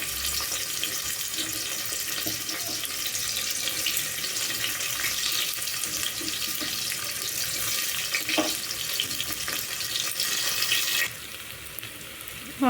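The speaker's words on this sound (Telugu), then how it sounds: "ఆయిల్ అయితే హీట్ అయింది. ఇప్పుడు ఉల్లిగడ్డలు 4-5 ఉల్లిగడ్డలు వేస్తున్నా." Sliced onions frying in hot oil in a home kitchen, a loud, steady close-up sizzle and hiss that continues throughout with no talking.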